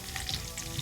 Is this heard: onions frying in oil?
yes